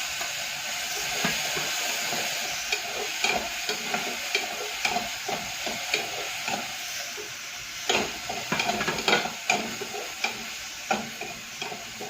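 Ground spice paste frying in a pan and being stirred, soft sizzling under repeated scraping and clattering strokes of a spoon, fairly quiet and close.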